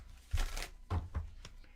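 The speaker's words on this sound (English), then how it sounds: "while I'm shuffling" Tarot cards shuffled by hand at close range, a few soft papery riffle bursts in quick succession, quiet and without talk.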